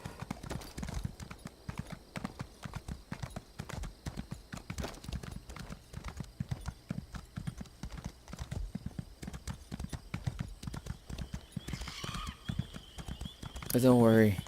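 A horse trots with steady rhythmic clip-clopping hooves in Elder Scrolls Online, with someone talking over the hoofbeats and a brief neigh near the end.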